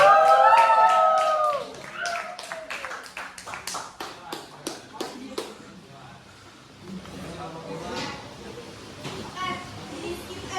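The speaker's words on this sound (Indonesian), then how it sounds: "Tepuk tangan dong buat kelompok 4." A classroom group at SMKN 1 Jakarta claps for group 4 after a presentation. Scattered, uneven claps build and then fade, following a teacher's speech, with murmuring students heard under the clapping.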